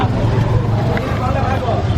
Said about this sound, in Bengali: চিরচারিত ট্রাফিক জ্যাম।